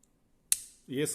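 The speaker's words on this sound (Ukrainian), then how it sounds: "між предметами стоять шайби, і тому воно клацає" A Victorinox Compact pocket knife, with washers between its tools, clicks as a tool snaps open: one sharp, crisp click, close and fairly loud, followed right away by a brief voice.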